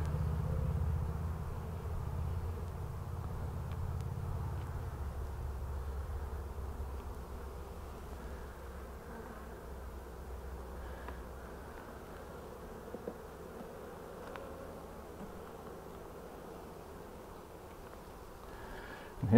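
Honeybees fill a hive as they draw comb, a soft, steady, low buzzing hum that carries on evenly for the whole stretch, fairly faint and close, with no voices.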